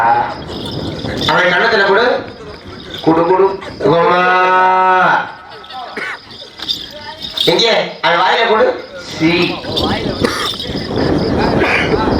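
Cattle lowing loudly and close, several long drawn-out moos with a rising and falling pitch, mixed with people talking and a faint background of crickets.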